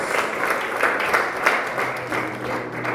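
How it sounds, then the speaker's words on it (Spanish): Loud, steady applause from a church congregation at an anniversary service for a men's group, a dense wash of clapping that continues throughout, with no talking over it. "¿Cuánto pueden dar ese aplauso fuerte al Señor?"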